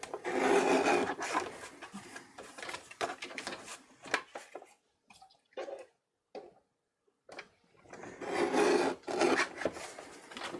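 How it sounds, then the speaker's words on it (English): Paper edges are trimmed for card making, a close raspy scraping cut in bursts, pausing and near silent in the middle before a final longer rough slicing stroke. "let's trim off the edges. Just like an 1/8 of an inch."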